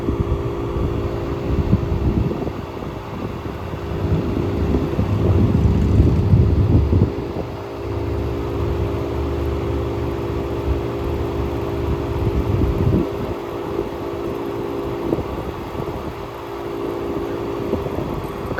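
A homemade fan running at suction power hums steadily with a broad, airy low rumble, its loudness shifting slightly over about nineteen seconds with no voices.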